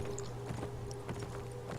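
Galloping horse hooves in the video game Beyond: Two Souls, a steady rhythmic drumming of hoofbeats at close range under a low hum, fairly quiet and without speech.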